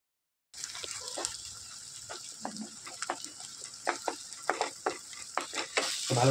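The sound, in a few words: eggs being stirred while frying in a pan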